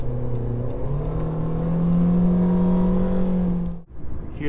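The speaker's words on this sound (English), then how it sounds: "Hear that 4-cylinder?" A four-cylinder car engine climbs in pitch as it accelerates on a highway, a loud droning hum heard from inside the car, then cuts off sharply with a brief dip as the gear changes.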